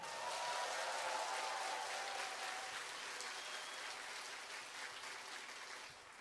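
A concert audience for the musical Park Chung-hee applauds in a dense, even wash of clapping heard from within the hall, gradually tapering off toward the end.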